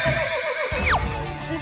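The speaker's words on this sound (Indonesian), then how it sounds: "Salah satunya ya hewan tunggangan di acara pasola tadi, yaitu kuda Sumba" A Sumba horse, the sandalwood pony native to Indonesia, gives one loud, close whinny that quavers, then climbs and drops sharply, with faint hoof clops and outdoor ambience underneath.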